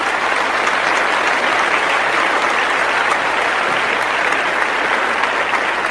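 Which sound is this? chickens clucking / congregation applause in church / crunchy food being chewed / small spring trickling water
congregation applause in church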